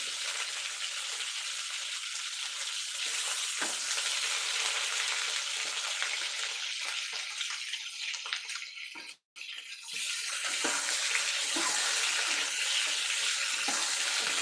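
Masala brinjal curry with ground spice paste frying in oil, a steady broadband sizzle that stays loud and close throughout, with a brief dropout near the end and no talking.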